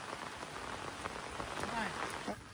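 Steady rain pattering on surfaces outdoors on a mountain in the Philippines, a dense close wash of drops with a faint voice-like murmur briefly underneath.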